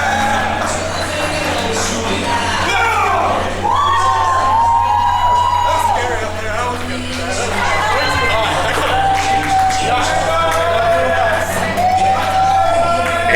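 Wrestling fans cheering, shouting and whooping at a live show as performers work the crowd, a steady loud roar of crowd noise throughout with scattered individual shouts.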